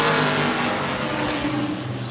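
A 1966 Chevelle race car engine roars at a short-track event, loud and close with a steady drone and slight rise and fall as it revs, no voices heard.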